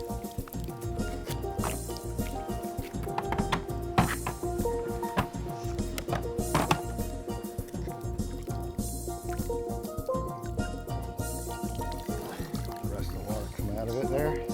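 Water drains from an Aquabot pool robot, trickling and dripping steadily beneath a man's ongoing speech, with occasional knocks and handling sounds.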